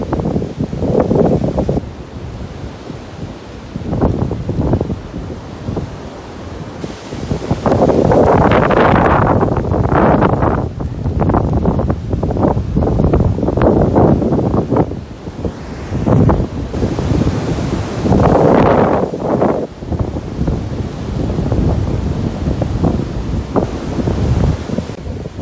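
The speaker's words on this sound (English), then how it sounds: "It's windy." Strong Storm Dennis wind roars and gusts across an outdoor walk, with buffeting microphone wind noise rising and falling in heavy surges throughout.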